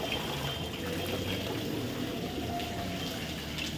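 Water runs steadily from a tap while plates are washed, a continuous splashing hiss that stays close and even the whole time, with no voices.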